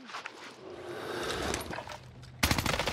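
Automatic gunfire in Warzone on Rebirth Island, a sustained loud volley of rapid shots from a CX-9 or similar weapon, with a sharper, denser burst of fire breaking in near the end.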